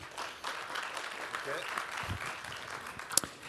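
Conference audience applauding in response to a show-of-hands poll, a moderate scattered clapping that runs steadily throughout, with murmuring voices mixed in and one sharp louder clap near the end.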